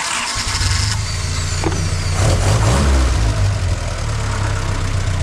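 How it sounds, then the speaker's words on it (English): A Willys Jeep engine, still being broken in, starts up and runs close by, holding a steady idle with a low throb and a brief swell of revving, and no one speaks. "So let's get the engine started back up."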